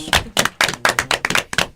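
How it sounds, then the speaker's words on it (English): A round of applause at a high school sports show, with dense clapping swelling in repeated bursts, fairly close and loud, with no talking over it. "give Phil Blackwell a big round of applause for all that he does"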